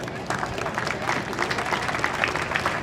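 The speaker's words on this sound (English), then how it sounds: "stand up so we can give you a round of applause" Distant crowd applause at a Relay for Life opening ceremony honors chili contestants, a steady soft patter of many hands under reverberant room noise.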